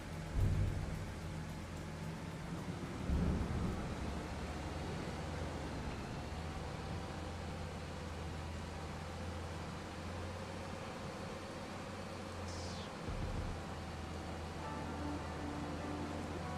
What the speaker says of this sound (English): This map even looks beautiful in the rain.